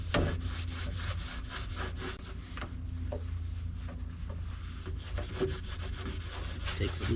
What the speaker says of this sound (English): take this towel and use it like sandpaper almost. Kind of push down and rub that.